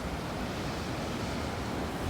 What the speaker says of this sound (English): Whoa, did you see that splash?